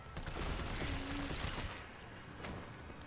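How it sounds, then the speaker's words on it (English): Rapid automatic assault rifle fire in Resident Evil 3, a continuous rattling burst heard fairly close, easing off partway through and followed by a lone later shot, with no one talking. "Assault rifle."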